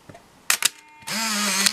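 A Canon Sure Shot 35mm compact film camera gives two quick mechanical shutter clicks, then a steady whirring motor drive as the film advances to the next frame, close and clear.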